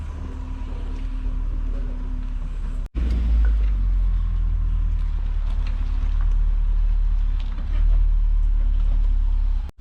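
A car rolls into a car repair workshop for diagnostics, its engine a steady low rumble throughout, briefly cut off about a third of the way in, then continuing loud and close.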